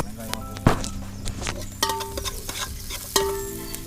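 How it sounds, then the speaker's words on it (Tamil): Onions frying in oil with cardamom for chicken biryani in a Malaysian village kitchen, a soft steady sizzle broken by several sharp stirring clanks and scrapes of a utensil against the pan. "வெங்காயம் போட்டுக்கலாம். நம்ம ஃப்ரை பண்ணிடலாம்."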